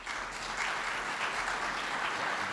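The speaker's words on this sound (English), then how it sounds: "We can give her a round of applause." An audience at a security conference keynote applauds a speaker, a steady even wash of clapping at moderate distance with no talking.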